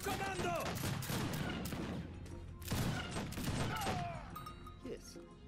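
Dense gunfire and rolling volleys from an Age of Empires 3 battle with mortars, steady and busy throughout, with someone talking over it.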